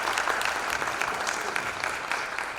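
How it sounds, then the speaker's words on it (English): A round of applause from parents at an arts school meeting for a newly formed student jazz quartet, brisk and steady, with scattered sharp claps over a continuous wash. "Let's give them another round of applause."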